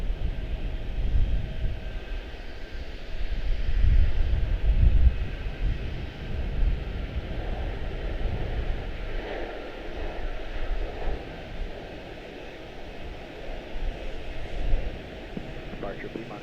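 An airliner departs Charlotte-Douglas International Airport for Fort Myers, heard as a distant, broad low engine rumble that swells and fades slowly and continuously, with no distinct nearby sounds.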